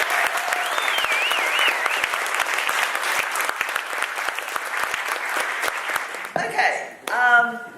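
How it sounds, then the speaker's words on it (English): Audience applause fills a lecture hall at an event on Palestine, a loud, steady wash of clapping that runs for about six seconds before breaking off, followed by a brief burst of speech. "if you'd all give them both a rousing round of applause"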